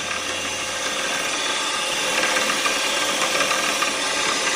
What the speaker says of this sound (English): so we're going to go ahead and drill down through